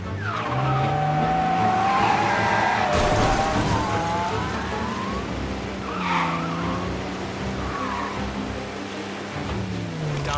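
A car in Mafia: Definitive Edition skids with long tire squeals and a sliding rush, then a heavy thud of impact partway through, as engine hum continues around it without any talk.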